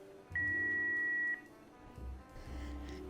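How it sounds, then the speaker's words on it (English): An answering machine gives a single steady electronic beep lasting about a second, clear and loud, followed by low background hum and faint rustling. "Please leave a message at the beep"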